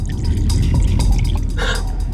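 Water pours into a glass in a restaurant, a steady, close, splashing trickle that runs without a break.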